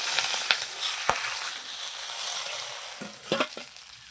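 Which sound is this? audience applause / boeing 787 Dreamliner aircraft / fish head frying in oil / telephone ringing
fish head frying in oil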